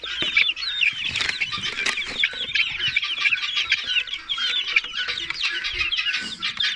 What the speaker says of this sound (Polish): Te kurczaki takie stałe, kochiny ładne powychodziły.